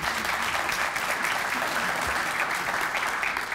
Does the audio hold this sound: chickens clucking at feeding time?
no